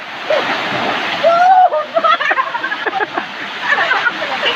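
Water splashes and rushes at the Lumpur M4 waterfall in Lubuk Kuali, a loud, continuous roar with bright splashing, recorded up close.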